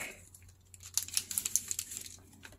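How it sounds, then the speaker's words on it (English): An ink stamp is pressed softly onto dry paper in a craft project, giving a quick cluster of light taps and papery rustles near the mic, quiet and close, with no talking over it. "Just like this, very soft stamping."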